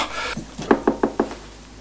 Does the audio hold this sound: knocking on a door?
yes